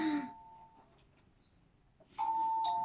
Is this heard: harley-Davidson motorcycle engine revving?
no